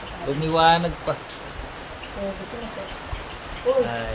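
Light rain patters softly in the background at a pigeon loft while a person speaks briefly in Filipino at the start and end.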